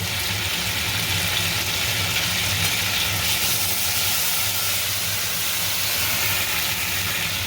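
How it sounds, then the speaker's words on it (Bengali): Whole cinnamon, cardamom and cloves sizzle in hot oil in a wok during village-style cooking, a loud, dense, continuous hiss and crackle that stays steady throughout. "মশলা ফোড়ন দিলাম, একটা দারচিনি, দুটো এলাচ, দুটো লবঙ্গ।"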